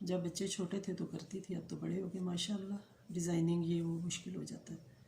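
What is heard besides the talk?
No everyday noises stand out.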